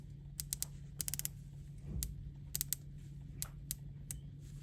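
The unidirectional bezel on a $5,025 titanium Tudor dive watch, rotated in short bursts of crisp, close clicks spaced over a few seconds against a quiet background hum, with no talking.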